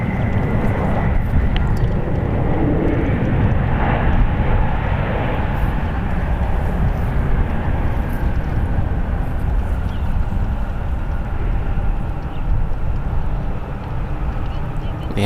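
A Boeing 777 airliner lands at San Francisco International Airport: a broad, steady roar of engines and rushing air holds for the whole stretch, with voices faintly mixed in.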